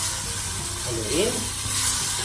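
Stirring chicken tinola with onion, pepper and fish sauce in a pot, giving a steady loud sizzle and bubbling with a brief scraping swirl from the spoon, close up and with no voices.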